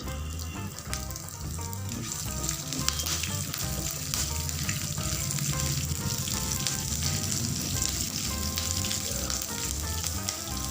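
Onions and green chillies fry in a pan over a medium flame, giving a steady, loud, dense sizzle that runs unbroken from start to finish.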